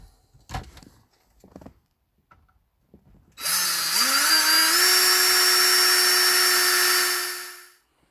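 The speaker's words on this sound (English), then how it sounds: "got to drill a hole in the back of this unit down here" A power drill whines loudly and steadily for several seconds, drilling a hole in the back of a unit in a Lexus LS430, its pitch rising slightly as it bites in, after a few faint clicks and knocks.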